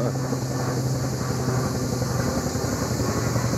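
A military helicopter passes over the sea off Beldibi, Antalya, a loud, steady rotor and turbine roar with a constant low throb that holds evenly throughout, with no voices.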